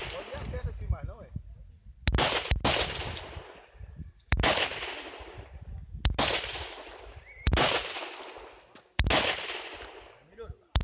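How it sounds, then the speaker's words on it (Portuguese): Six loud .38 revolver shots at a shooting course ring out one after another at steady intervals, each with a sharp crack and a ringing tail, over a humming background. "Vamos lá, mais 6 acionamentos. Fogo."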